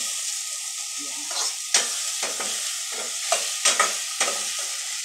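Leftover lechon fries with munggo in a pan, a steady close sizzle broken by repeated scraping stirs of a utensil, and a brief spoken word.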